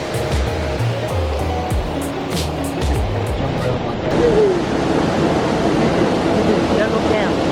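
Flowing water of a waterfall in Lesotho, a steady broad rushing roar heard up close throughout, with low wind-like rumble at the start and no clear talk over it.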